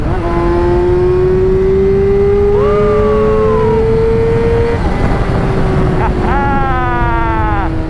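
Yamaha R6 motorcycle accelerates hard through the gears, its loud engine pitch rising in long sweeps and dropping at each upshift, with a rider's voice over wind noise.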